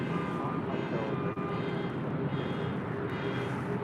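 A jet taking off from runway 24 left at LAX, a broad steady roar heard from a distance, constant and unbroken throughout with a brief dip near the middle.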